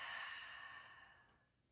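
A single soft, airy exhale during a yoga stretch, close and quiet, tapering off over under two seconds.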